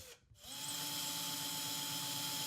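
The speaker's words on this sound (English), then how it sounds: "a series of small holes can be drilled until the bit encounters" An electric drill boring small holes into a ceiling until the bit reaches solid wood, starting after a brief pause and then running as a steady, high whirring whine close by.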